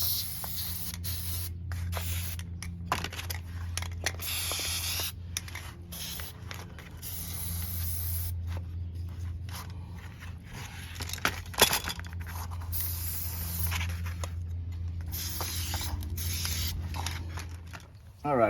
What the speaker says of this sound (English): spray some grease.